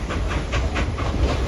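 Nickel Plate Road 756 steam locomotive rolls along on a fall color excursion, a loud continuous rumble and hiss with rhythmic chuffing pulses, heard fairly close.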